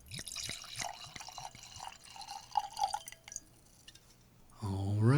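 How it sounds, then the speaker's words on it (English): Kyoto sake pours into a glass up close, first in trickling drips and splashes, then a fuller glugging stream that rises in pitch as the glass fills at the end. "And we're going to pour."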